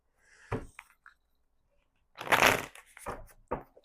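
Tarot cards being shuffled by hand make close, sharp riffling bursts, with a longer flurry of rapid card flicks in the middle between short clicks and quiet pauses.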